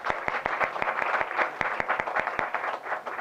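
An audience at a public presentation breaks into lively applause, a dense, continuous patter of many hands clapping at moderate distance.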